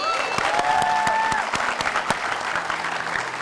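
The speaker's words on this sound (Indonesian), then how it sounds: "Tepuk tangan sekali lagi." A studio audience claps enthusiastically after a successful challenge on an Indonesian comedy show, a loud, dense burst of applause with sharp individual claps throughout and no speech over it.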